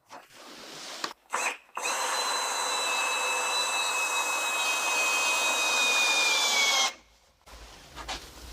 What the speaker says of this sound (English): I fasten it with these starhead screws.